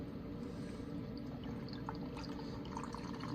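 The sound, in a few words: blue curacao cocktail poured over ice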